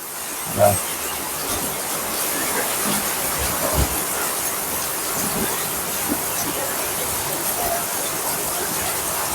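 Heavy monsoon downpour in Surat, a continuous loud roaring hiss that fills the air, with a brief knock near the start.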